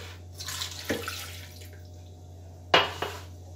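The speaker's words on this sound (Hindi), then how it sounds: "दूध डालूंगी" Milk pours over sliced bananas in a container for a banana shake, a splashy stream that rises and fades, followed by a sharp clatter near the end.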